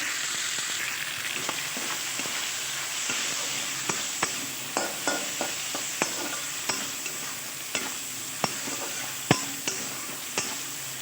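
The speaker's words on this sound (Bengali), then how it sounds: "চিংড়িটা আর একটু ভাজা হবে" Shrimp fry in a pan with turmeric and salt, giving a steady sizzle broken by regular sharp clicks and scrapes of a spatula stirring the pieces.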